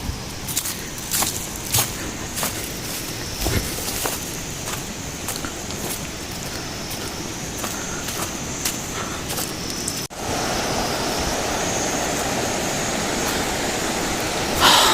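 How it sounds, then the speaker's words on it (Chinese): Mountain spring water runs down a wet trail in the Qinling mountains, a steady hiss with footsteps crunching over it and a few sharp knocks, growing louder and fuller toward the end, with no talk. "还在流水，这是上面的山泉水流下来啊"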